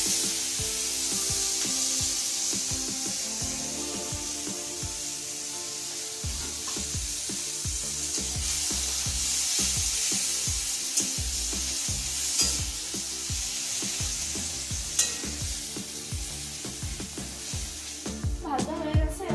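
Butter fries in a pan as the first step of making chowmein: a constant sizzling hiss with occasional stirring scrapes, heard beneath loud rhythmic background music and some talking.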